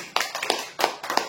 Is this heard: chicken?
no